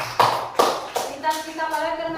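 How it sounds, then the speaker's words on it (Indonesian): Classroom of pupils clapping for a classmate, a few sharp rhythmic claps followed by children's voices and bustle. "Tepuk tangan untuk si Nasir"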